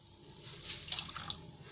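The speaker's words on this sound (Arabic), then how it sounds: "واحط عليه الميه" A small amount of water is poured into a cup over sugar and instant coffee, a faint, brief trickle and splash heard close in a quiet kitchen.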